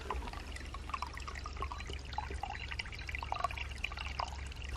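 Water flows and trickles steadily through a restored traditional waterway on a homestead, a soft continuous babble with small splashes over a low rumbling background, heard alone at moderate distance.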